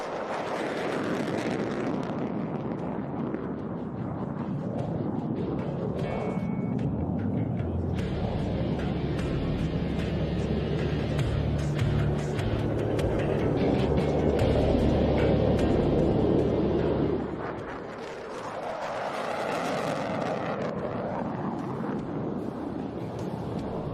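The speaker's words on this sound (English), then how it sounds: "the F-22 air superiority fighters launched to intercept the enemy aircraft" F-22 air superiority fighter jets launching at an air show, a loud sustained roar of jet engines swelling and fading, with wind buffeting the microphone.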